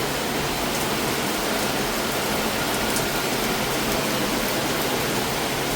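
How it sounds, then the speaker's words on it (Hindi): Heavy rain pours down steadily outdoors, a dense, even hiss of falling water that holds at a constant loudness throughout, with no voices over it. "गाइस ये देखो बारिश कितनी तेज़ हो गई है।"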